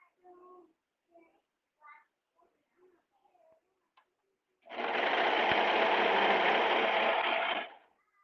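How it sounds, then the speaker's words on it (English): Fiberless serger stitching fabric, a fast, loud mechanical whirring burst lasting about three seconds after brief speech at the start. "Sergers let you zoom. You get your fabric in place where you want it."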